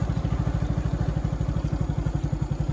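A motorcycle engine idles close by with a steady, rapid thumping putter throughout.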